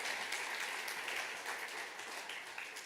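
Steady round of applause from a high school awards audience honoring senior council students, many hands clapping at an even level throughout.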